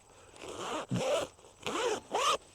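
Four quick pulls of a waterproof zipper on a Rhinowalk handlebar bag, close and crisp, each a short rasping zip with brief pauses between them.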